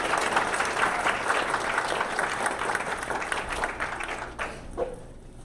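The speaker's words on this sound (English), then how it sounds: "Please give them a huge round of applause" Audience at a health innovation partnerships event applauds the panelists with a lively round of clapping that tapers off near the end, with a brief murmur of voices.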